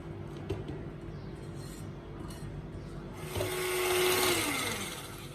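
An electric hand mixer beats cupcake batter in a bowl, a steady whirring drone that rises in pitch and loudness partway through before easing off.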